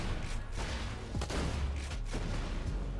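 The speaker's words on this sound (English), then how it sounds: "So you shoot in a 3x3 pattern, it explodes, and then it waits a second, and then explodes again." A Torgue shotgun in Borderlands 2 fires and its blast explodes, then bursts again after a pause, giving several dull booms over constant game rumble with no talk.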